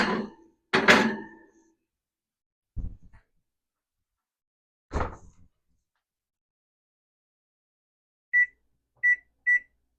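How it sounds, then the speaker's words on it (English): Kitchen oven timer beeping three times when a banana bake finishes, short clear beeps after scattered thumps and clatter of kitchen handling in an otherwise quiet room. "the timer just went off"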